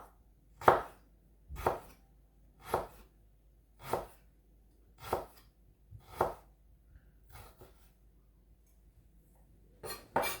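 A knife chops through Chinese broccoli (gai lan) on a cutting board in seven or eight sharp, evenly spaced strokes about a second apart, close and clear with quiet gaps between cuts.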